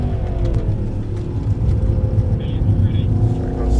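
A Mercedes-AMG E63 on the Mercedes-Benz World race track, its engine a steady, loud, close cabin rumble with a sustained drone as it drives, while an instructor talks over it.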